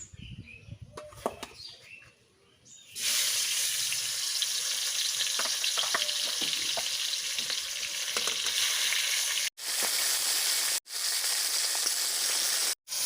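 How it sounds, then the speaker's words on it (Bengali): Fish hits hot oil in a wok, bursting into a loud, dense sizzle that holds steady for about ten seconds after a few seconds of quieter kitchen clatter, briefly cut by short gaps. "তেলটা গরম হয়ে গেছে, এখন আমি মাছটা ছেড়ে দিচ্ছি কড়াইতে।"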